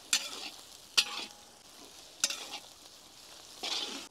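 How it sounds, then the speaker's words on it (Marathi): Onions sauté in a pan with whole spices such as black pepper, cloves, bay leaf and dried red chillies, giving a quiet steady sizzle broken by a few sharp scraping stirs of a spoon. "आपण आता कांदा व्यवस्थित ब्राऊन होतोपर्यंत परतून घेऊ।"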